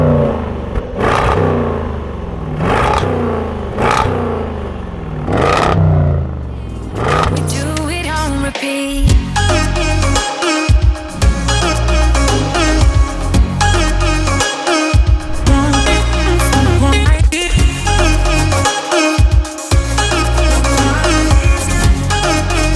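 A 2019 Range Rover SVR engine revving loud and close on a mountain pass drive, starting with several sharp rev blips, then a sustained roaring pull with gear changes.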